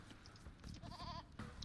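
Goats bleat in Age of Empires II on an Arabia map, a short wavering in-game call rising over a steady background of game ambience.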